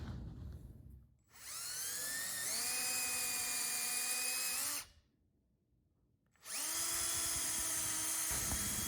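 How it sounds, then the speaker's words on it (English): A power drill whines up to speed and runs steadily boring into a wooden 2x4, stops for about a second and a half, then starts again, close and loud. "I like to pre-drill just enough to get through the 2x4"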